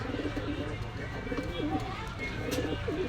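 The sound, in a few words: Pakistani pigeons cooing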